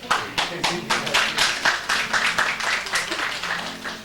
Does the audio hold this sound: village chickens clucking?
no